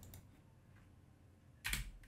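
A computer keyboard typing a command in Rhino 3D modeling software: a short, close burst of clicky keystrokes near the end, over a quiet room and with no talking.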